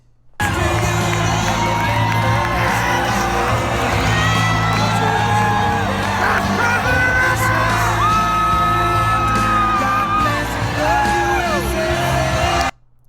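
A dense crowd at a Trump rally yells, whoops and cheers, loud and continuous for about twelve seconds, with individual shouts and rising whoops standing out above the roar.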